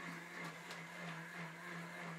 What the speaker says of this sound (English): starting the blender, and then slowly adding the peelings into the whirling blades